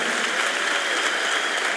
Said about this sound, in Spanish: Den un aplauso bien fuerte a Jesús